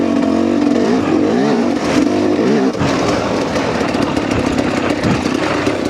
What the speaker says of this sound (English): The engine feels great though.